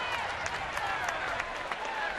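A baseball crowd at a ballpark reacts to a foul ball with a steady roar and scattered clapping, a broad wash of noise behind voices talking over it.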